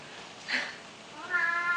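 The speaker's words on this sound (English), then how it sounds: "My cat already meow meow." A cat meows twice nearby in a home kitchen where steamed buns are being made, a short mew followed by a longer drawn-out cry over quiet room noise.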